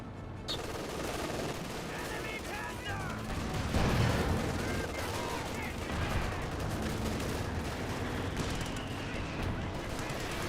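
Battle noise from Company of Heroes 2, with an artillery barrage and scattered gunfire crackling continuously, a heavier thump near the middle, and a voice talking over it.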